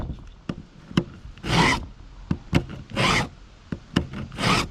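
Hand file sharpening chainsaw chain teeth and rakers: three long, close rasping strokes, evenly spaced, with sharp metallic taps and clicks in between and no talking.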